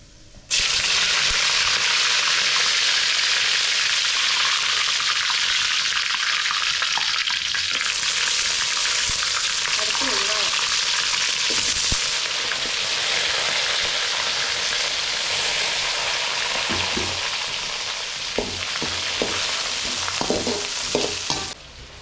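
Curry leaves, onion and green chili hit hot oil and fry with a loud, steady hiss that continues for a long stretch, with occasional stirring clinks and scrapes toward the end.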